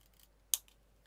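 Scissors cut fabric while sewing a needle book, making one quick, crisp snip up close in an otherwise quiet room, followed by a faint start of another.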